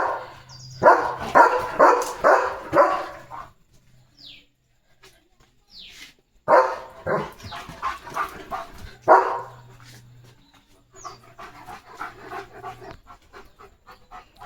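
A German Shepherd in a garden barks in a loud, close volley of rapid barks, then pants and gives further bursts of barking, with birds chirping in the background between them.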